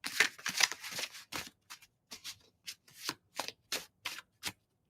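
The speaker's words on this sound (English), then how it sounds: "when you shuffle them, listen to that sound" Playing cards being shuffled up close, a burst of riffling followed by a series of quick, soft snaps and flicks.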